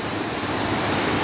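Hamogaway Falls, a waterfall in Bayugan City, Agusan del Sur, roars as a steady, dense broadband rush of falling water, close and loud without a break.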